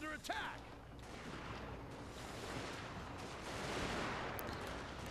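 Troops fire rifles in Total War: Shogun 2 Fall of the Samurai, a dense crackling fusillade of overlapping shots that keeps rolling throughout, moderately loud and unbroken.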